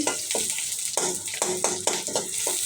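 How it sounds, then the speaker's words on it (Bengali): Eggs and dried chilies frying in a hot pan, a bright continuous sizzle punctuated by repeated scraping stirs at an uneven rhythm, close and loud with no talk. "ডিম আর শুকনো মরিচ ভাজি করছি"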